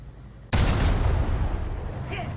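Tank cannon on an M18 in a video game fires a high explosive shell: a sudden loud blast about half a second in, followed by a long rumbling roar and debris that keep sounding to the end.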